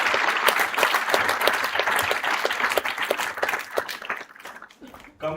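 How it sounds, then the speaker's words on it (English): Audience applause at an IIM Amritsar inauguration ceremony for a new batch, sustained dense clapping from a large crowd that holds steady, then thins and fades toward the end. "Please clap for yourself."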